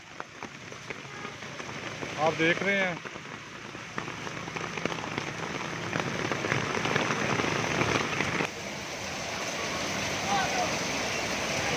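Heavy rain with light hail pours down steadily in Gujranwala, Punjab, a dense continuous patter on surfaces with a brief lull near the middle, while someone speaks briefly over it.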